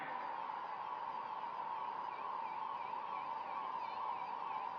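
Sirens from a fleet of mobile veterinary unit vehicles sound together at a cow-protection conference flag-off, giving a continuous, steady wailing tone with faint warbling layered on top, heard from some distance and without pause.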